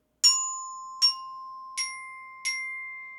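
Bell kit notes struck four times in slow succession, each bright metallic ping ringing and decaying, the last two a little higher in pitch, heard clearly with no talking.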